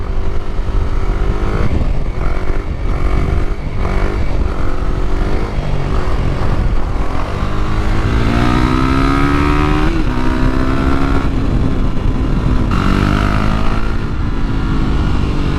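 A KTM Duke 390 motorcycle pulls hard in third gear, its engine rising in pitch and roaring loud and close for the whole stretch as the rider accelerates.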